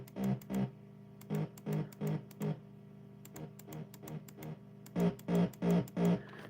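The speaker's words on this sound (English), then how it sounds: "it's almost got like a slowed down sort of like squaddy hardcore bass to it" A distorted hardcore bass patch programmed in FL Studio, slowed down, thumps in short repeated bursts: a quick run of hits, a quieter stretch, then another loud cluster, with no voices over it.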